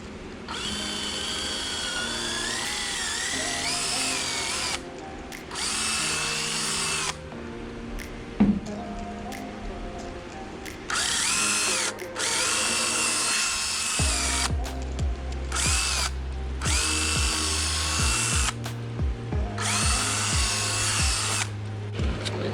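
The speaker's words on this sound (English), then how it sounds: "you got to drill these holes out just a little bit so that they slide over the posts" A power drill bores holes in a plastic console from a 996 GT3, its motor whining in several bursts that rise and change pitch, with short pauses between, close and clear, no talk.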